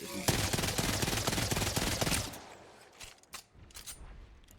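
An in-game gun in Apex Legends fires a rapid, loud automatic burst for about two seconds, then a few scattered shots and clatters follow more quietly.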